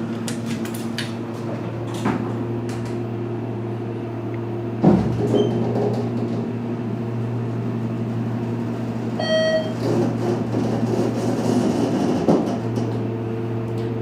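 A squeaky ThyssenKrupp Endura hydraulic elevator rides steadily with a constant low motor hum, a bump near the start of travel, and a brief chime partway through.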